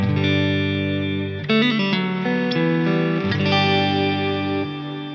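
Sustained, distorted electric guitar chords and notes ringing with reverb, played close and loud without spoken voice.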